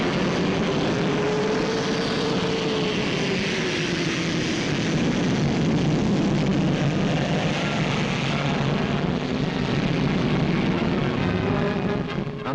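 Donald Campbell's Bluebird record car idles its engine, a loud, steady turbine-like roar with a slowly wavering whine that holds without pause, no voices.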